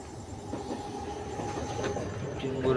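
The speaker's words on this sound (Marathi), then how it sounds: "ट्रेन चालली." A train rumbles past near a fishing spot on the water, a steady loud clattering roar of rail wagons with a faint wheel squeal rising toward the end.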